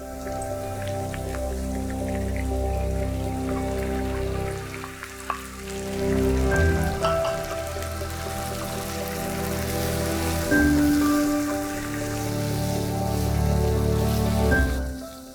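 Liver frying in a pan for Johor-style sambal goreng, a steady dense sizzle and crackle like rain running the whole time, loud and close, with a few brief pops and no talking.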